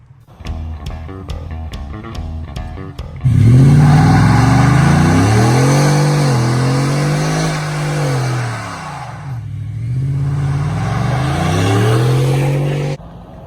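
A 2020 Ford F-150 regular cab short box truck with a 5.0-liter V8 revs loudly after a few short blips, then holds a rising and falling roar that dips briefly before climbing again and cutting off.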